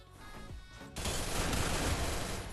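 Video game gunfire from a SCAR rifle and an MP40 submachine gun: a muffled lead-in, then a sudden dense burst of rapid automatic shots that keeps going steadily to the end.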